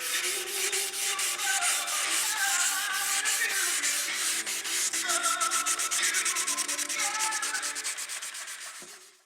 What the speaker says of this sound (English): I pretty much got everything sanded. I'm just going back over a lot of stuff.